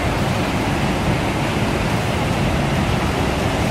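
The cascading waterfalls of Baume-les-Messieurs in the Jura, France, give a loud, steady rush of falling water with no breaks, no other sounds and no talking.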